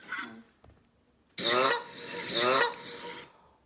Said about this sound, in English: Is there a goose honk? Canadian goose? Honk. Okay, Canada Goose.